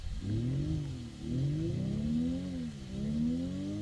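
Artificial engine sound from a Denza electric hypercar played both inside and outside, three smooth harmonic rev sweeps climbing and dropping in turn, steady and fairly loud with no talking.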